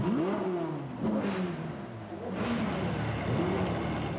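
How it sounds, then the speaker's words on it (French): Car club engines at a funeral rev repeatedly in rising and falling surges, loud and close, with several vehicles overlapping and no talk. "Les copains de leur club automobile font retentir leur moteur pour les accompagner une dernière fois."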